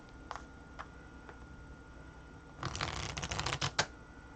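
A deck of cards is shuffled in a quick riffle run of close, crackling flutters, with a few faint taps before it.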